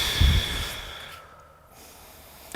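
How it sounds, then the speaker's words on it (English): A deep breath during a workout stretch, a heavy close exhale at the start that trails off into quiet room tone. "Nice deep breaths."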